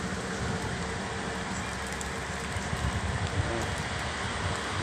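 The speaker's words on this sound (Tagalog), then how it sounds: "Ay, umuulan guys, umuulan." Steady hiss of rain falling outdoors in Capas, Tarlac, a dense continuous wash with faint patter, no voices.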